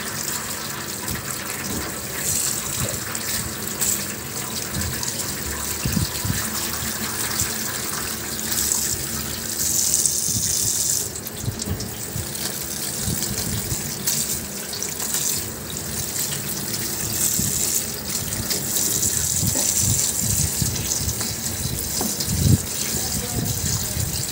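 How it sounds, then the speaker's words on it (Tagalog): Cooked pasta being rinsed under a running cold kitchen tap, a steady loud gushing stream splashing into a sink for the whole stretch, with a voice talking over it. "I-drain na natin sa malamig na tubig."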